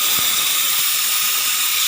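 A pressure cooker hisses steam on a kitchen stove, a steady, loud, bright jet of hiss running unbroken throughout with no voices over it.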